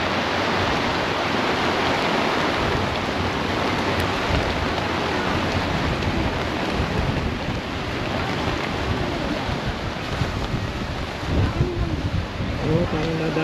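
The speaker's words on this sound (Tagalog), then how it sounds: "Lakas na yung ulan." Loud, steady wash of heavy rain hissing down at a beach in Lian, Batangas, broadband and unbroken, with faint voices underneath toward the end.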